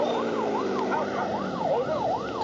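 Police car siren in a video game wails in a steady rising and falling sweep, loud and close, repeating several cycles over a low vehicle rumble with no talking.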